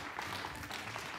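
Studio audience applauding to welcome four older guests and a doctor back onto the floor of a Chinese health talk show, a steady, dense burst of clapping with no talk.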